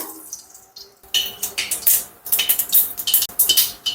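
Mustard seeds spluttering in hot coconut oil in a pan, starting after a quiet second as a dense run of sharp crackling pops, close and loud.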